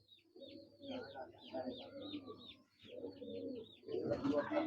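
Golden pigeon cooing in repeated soft low calls, with higher chirping birds overhead and a louder burst of mixed bird noise near the end; no talk over it.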